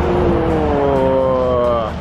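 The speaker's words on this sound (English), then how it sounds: "So it's like I got a truck going by." A truck passes along a road on a scenic British Columbia road trip, its engine a loud, steady drone with rising and falling tones that fades slightly at the end.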